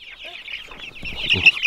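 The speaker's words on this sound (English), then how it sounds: "Callie, easy on chickens." Chickens cluck in a backyard flock being approached by a livestock guardian dog, a steady chorus of close clucks and calls with a louder burst near the end.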